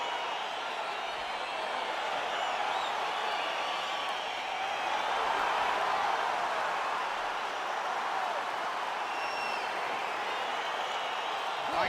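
A UFC arena crowd roars and cheers steadily as the fight begins, a dense wash of distant voices and applause that stays at an even level throughout.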